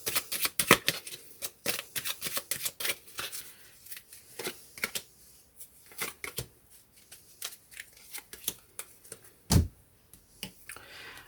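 Oracle cards from two decks are shuffled and drawn by hand, giving repeated quick papery flicks and riffles in close, uneven bursts, with one sharper slap near the end and no talking.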